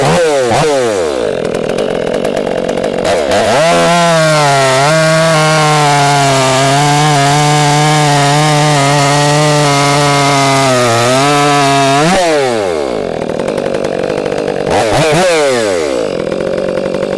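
A throttled-up chainsaw cuts firewood, running loud and steady as it bites through the wood, opening with a short rev and idle, then dropping back and revving briefly again near the end.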